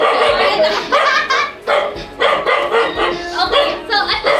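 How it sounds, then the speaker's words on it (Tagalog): Several dogs bark excitedly at a home Christmas party, loud and close with rapid repeated yips and barks, while people's voices and laughter mix in. "Nagkakabulabog yung mga aso."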